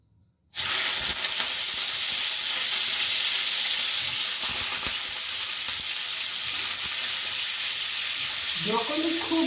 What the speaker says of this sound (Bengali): তেলটা গরম হয়ে গেছে, এবার আমি ব্রোকলিটা দিয়ে দিচ্ছি।